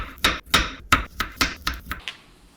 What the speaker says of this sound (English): we're going to need 1 cucumber. Slice it into rounds